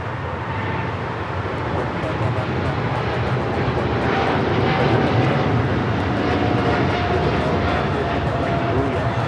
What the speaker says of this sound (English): This is China Cargo Airlines 222 taking off to Shanghai on the 777 freighter.